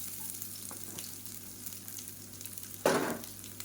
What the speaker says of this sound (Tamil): இது வந்து லேசாக வதக்கினா போதும்